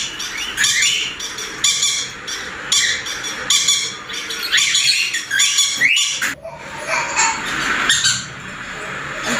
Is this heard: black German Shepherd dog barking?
no